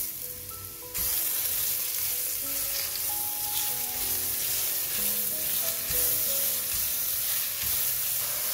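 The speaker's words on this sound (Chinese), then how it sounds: "放入姜片煸香，大约炒了1-2分钟" Ginger slices stir-frying in hot oil in a wok, a loud continuous sizzle that kicks in abruptly after a second and keeps crackling steadily, with faint scraping of the stirring.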